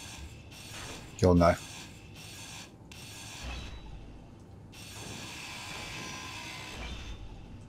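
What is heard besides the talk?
grinder cutting off blocks in video game Space Engineers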